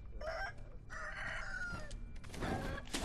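A rooster crows repeatedly in Sekiro: Shadows Die Twice, loud drawn-out cock-a-doodle-doo calls with some clucking, heard alone over the game's ambient background.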